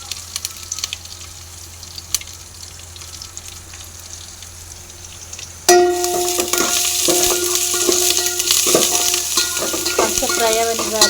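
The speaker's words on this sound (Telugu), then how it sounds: "కాస్త ఫ్రై అవ్వనివ్వాలి." Cumin, green chilies and curry leaves tempering in a pan for jeera rice, quiet at first, then an abrupt loud crackling sizzle with popping that stays strong and close.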